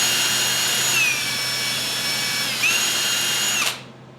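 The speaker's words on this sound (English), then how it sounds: "put it in my drill, just hit it with Scotch-Brite. That cleans up the surface." Power drill fitted with a Scotch-Brite pad spins at high speed to clean stainless steel motorcycle fender struts for a Honda Rebel 250, a loud steady whine that dips in pitch briefly before cutting off and winding down.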